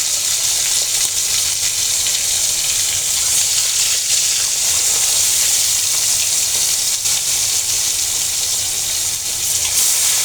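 Pieces of hilsa fish fry in hot oil in a pan, giving a loud, dense, continuous sizzle and crackle that runs steadily for the whole stretch with no voices over it.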